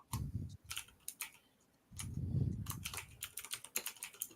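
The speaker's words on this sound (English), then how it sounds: "Alex, you have the loudest typewriter or keyboard." A very loud computer keyboard is typed on in fast bursts of sharp clacks with brief pauses between, close to the microphone, with no speech.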